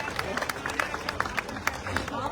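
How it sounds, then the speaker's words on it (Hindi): Scattered crowd clapping at a large Jat mahapanchayat gathering of the Palam 360 khap in Delhi, a fairly distant, uneven series of claps over general crowd murmur. "सोलंकी साहब के लिए जरा तालियां।"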